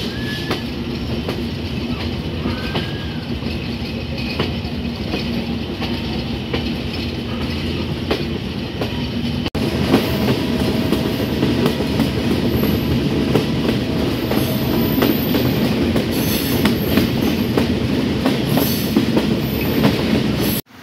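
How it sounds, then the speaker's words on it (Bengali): The Chitra Express passenger train rolls on the rails after leaving Bheramara on the Khulna–Dhaka route, with a continuous rumble and rhythmic clickety-clack that grows noticeably louder and harsher partway through, heard up close from on board without speech. "আমাদের ট্রেন কিন্তু ভেড়ামারা ছেড়ে দিয়েছে।"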